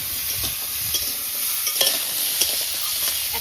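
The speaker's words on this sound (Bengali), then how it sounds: "কেটে রাখা কাঁকড়া দিচ্ছি" Cut crab pieces sizzle in hot mustard oil with a few mustard seeds in a heated wok, a steady close frying hiss broken by small clicks and scrapes of stirring, with no talking.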